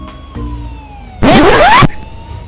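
Police car siren in the Grand Theft Auto V video game, a loud wailing burst lasting about half a second with a rising sweep, standing out over a quiet engine drone.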